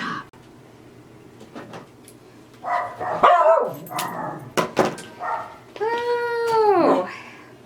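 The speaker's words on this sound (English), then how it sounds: "So the dog was barking" A dog barks several times nearby, with sharp yelps and higher whining barks that build toward a long drawn-out cry at the end, set against a quiet indoor room.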